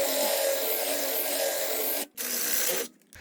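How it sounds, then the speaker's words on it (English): Steady high-pitched whine of a drill boring out a seized rotor screw on an R56 MINI Cooper during a wheel bearing job, running continuously with two brief stops. "I'm just gonna drill it out"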